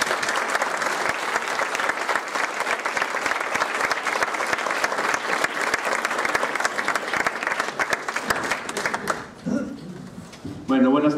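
Audience at a lecture on Egyptian influence on Mexican cuisine welcomes chef Toño with strong, sustained applause that fills the room for about nine seconds before dying away as a voice begins speaking.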